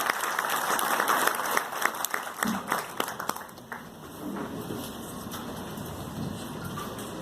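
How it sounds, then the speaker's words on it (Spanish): Applause rises from a crowd at a presentation event and is strongest at the start, then fades into a lower rumble of background noise. "que sean los aplausos para decirle gracias"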